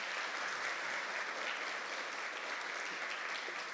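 Steady applause from a church congregation honoring one of its members during a service, a dense even wash of clapping from many hands throughout with no break.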